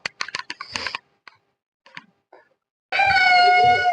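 A cat gives a loud, sustained meow near the end, preceded by scattered short clicks and faint brief sounds with gaps of silence.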